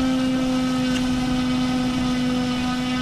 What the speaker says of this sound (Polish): Próba silnika.